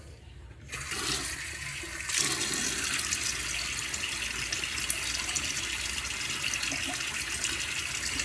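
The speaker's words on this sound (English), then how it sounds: "Let me get my face wet." Running tap water splashes steadily into a sink as a face is wetted before a shave with a 2-Zor adjustable razor and Feather blade, starting after a short quiet moment and swelling louder near the two-second mark, then flowing on unbroken.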